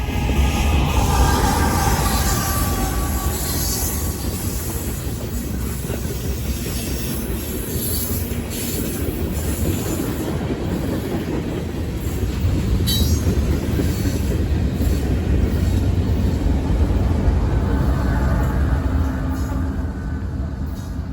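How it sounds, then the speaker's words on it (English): CSX freight train 13R rolls past steadily on the rails in summer, a loud continuous roar of wheels and cars with faint squeal, no voices. "After hours of waiting, 13R finally left the yard and eventually made it to my location."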